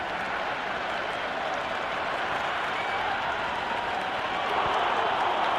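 Steady crowd applause and cheering from a stadium in the cricket video game Cricket 26 during a Pakistan versus Australia T20 match, a continuous broad roar that swells slightly near the end.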